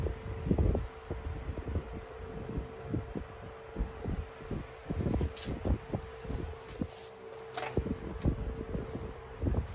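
A 1970s/1980s Limit Ariel 12-inch oscillating desk fan blows air with a steady hum, broken by uneven gusty buffeting as the airflow hits nearby, fairly close and loud throughout.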